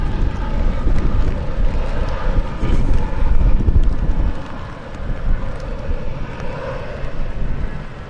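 A Boeing 777 airliner at Manchester Airport in wet, windy weather gives off a broad, steady jet engine roar that swells and dips, mixed with wind noise.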